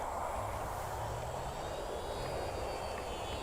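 An FMS Super EZ RC airplane buzzes over a new runway at an RC flying field, its electric propeller motor a steady, fairly loud drone with no talking.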